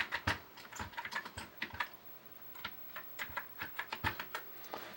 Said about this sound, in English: Here we have the keyboard plugged in with the new membrane.